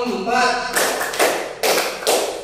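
A group at an elementary school claps together in short synchronized bursts, three loud sets of claps in rhythm following a voice speaking at the start.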